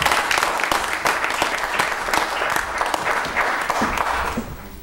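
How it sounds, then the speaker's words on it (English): Applause from a church congregation during a worship service, a steady dense clatter of many hands sustained throughout at moderate loudness with no talk over it. "Can we just clap for the adults in this church?"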